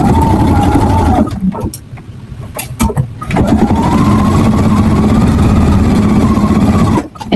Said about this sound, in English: And sew that 1/4 inch.